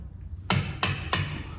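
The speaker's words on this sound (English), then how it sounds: "I just take a hammer and a punch, or a hammer and a chisel" A hammer strikes a punch to knock the tab on a car's tie rod, three sharp, ringing metallic hits about a third of a second apart, close and alone.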